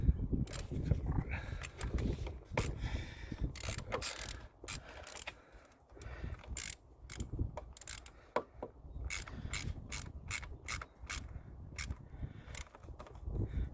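A hand ratchet clicks in quick, uneven bursts while tightening the positive battery terminal on a 2016 Subaru Crosstrek, close and fairly quiet, with small metallic knocks and rustling between strokes.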